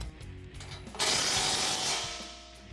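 Ratchet with a 19mm socket tightening the bottom bolt of a heavy-duty steel front bumper on a Jeep Wrangler, a short close burst of clicking and grinding mechanical noise.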